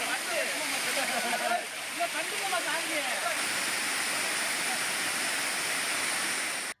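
Courtallam main waterfall pouring heavily during a rainstorm, a steady, dense roar of rushing water that stays loud and constant throughout, with a faint murmur of voices beneath it.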